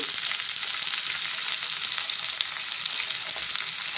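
Onions frying in a pan with salt and turmeric, a dense, bright, even sizzle filling the whole stretch, close and loud with no voices.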